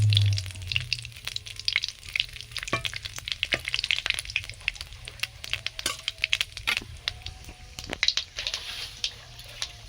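Whole bay leaves and black cumin seeds sizzle in hot oil for a hilsa fish curry, a crackling hiss broken by frequent sharp pops throughout, nobody speaking.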